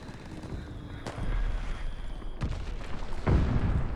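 Mortar strikes and gunfire in the Call of Duty video game: three sharp booms spaced about a second apart over a rumbling battle background, moderately loud.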